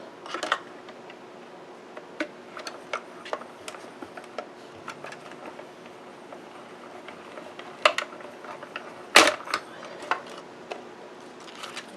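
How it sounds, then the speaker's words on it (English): A die cut machine works a circle out of scrap card with sparse, faint clicks and ticks, one sharper snap partway through, heard quietly and alone. "We're done with our die cut machine."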